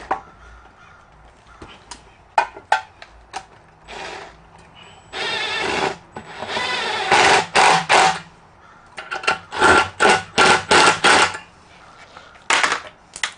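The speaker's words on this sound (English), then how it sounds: "Thank God for power tools." Power tool tightening hose clamps on a fabric hose while setting up an RMLaser RM960 Pro CO2 laser engraver cutter, heard as repeated short bursts of whirring and ratcheting, loud and close, separated by clicks and handling noise.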